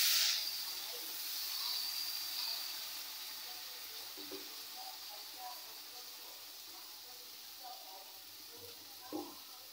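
Bitter gourd and potatoes just dropped into hot oil with chili in a pan. A sharp hiss bursts at first, then settles into a steady, faint sizzle with a few small knocks.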